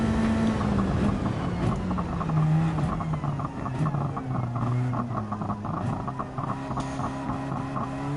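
Radical race car in Gran Turismo 7, engine droning steadily at close range for the whole stretch, with shifting pitch as it accelerates and changes gear, no talk over it.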